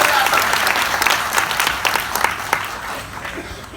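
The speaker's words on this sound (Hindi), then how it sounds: "तो तालियां कमजोर है, जोरदार बजाओ।" Dense, steady applause from a comedy show audience, a loud continuous wash of many hands clapping with a few sharper claps standing out, sustained throughout.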